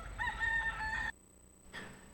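A rooster lets out a close, loud crow lasting about a second, followed by a short pause and then a softer cluck or rustle from the chickens nearby.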